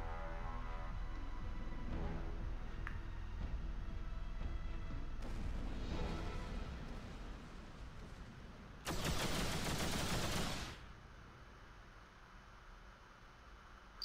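Particle accelerator cannons fire in the space game X3, a dense sustained burst of rapid synthetic blasts that gives way to a loud hissing wash, then fades to a lower rumble.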